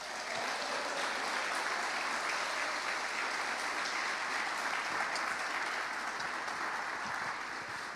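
A church congregation clapping hands during a sermon, a continuous dense wash of applause-like clapping at even loudness for the whole stretch, with no voices on top.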